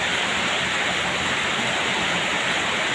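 Heavy rain pours down at a roadside stall in Bueng Kan province, Thailand, a dense and steady hiss that holds loud and even throughout with no voices over it.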